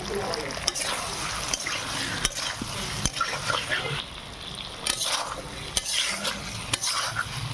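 Fried egg, potato and pointed gourd being stirred in a sizzling pan, with steady frying hiss broken by repeated sharp scrapes and knocks of the spatula at irregular intervals.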